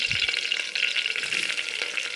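Steady, dense sizzle of eggs frying in hot oil in a pressure cooker, crackling continuously and close by with no voices.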